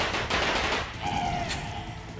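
Rapid firecracker-like bursts crackle in the video game Persona, a dense loud volley in the first second followed by a softer ringing tone and scattered pops.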